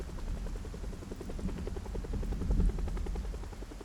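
A helicopter in a zombie survival game drones steadily with a rhythmic rotor chop, loud and continuous throughout, with no talking over it.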